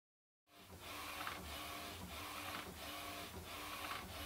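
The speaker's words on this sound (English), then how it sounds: "And so now I wait for the printer to spool up" A Canon inkjet printer prints a photo. After a brief silence it starts up and keeps up a steady mechanical whir, with a rhythmic swish from the print head sweeping back and forth about every half second. The sound is faint and close.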